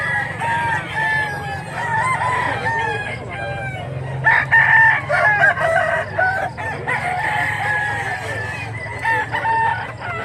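A rooster crows repeatedly, loud and close, over a steady background of other fowl clucking and a low murmur of voices.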